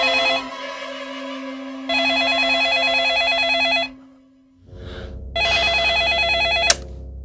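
A telephone bell rings in long, loud, trilling bursts: two rings back to back, a short silence, then a third ring. A low background hum runs beneath the ringing in a Hindi TV serial scene.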